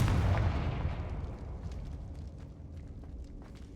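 A Confringo fire spell cast in Hogwarts Legacy, with a loud fiery burst at the start that fades into a crackling, rumbling tail lasting a few seconds.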